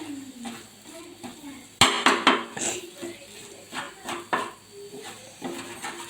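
A spoon scrapes and clanks against a pan while egg masala is stirred, with a sharp metallic knock followed by repeated uneven scraping strokes close by.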